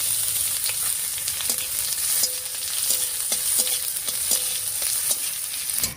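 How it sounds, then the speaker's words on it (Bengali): Whole cumin, bay leaf, dried chilli and chopped onion fry steadily in hot oil for a village-style fish curry, a constant close sizzle broken by several sharp spatula knocks and stirring scrapes against the pan. "ফোড়নের উপরে পেঁয়াজটা দিয়ে বেশ একটু ভাজা ভাজা মতো করে নিয়েছি"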